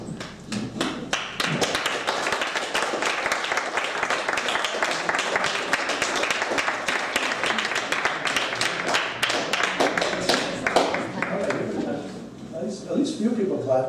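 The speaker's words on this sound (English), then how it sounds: "at least a few people clapped" Scattered clapping from a small group, a steady patter of hand claps that lasts several seconds before tapering off, with murmured voices underneath.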